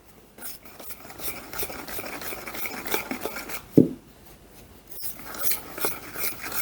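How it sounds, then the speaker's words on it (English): Teacake dry ingredients of flour and spices whisked together in a bowl, soft repeated scraping and rasping strokes with one sharp knock midway, close and fairly quiet. "I'll give it a good whisk round"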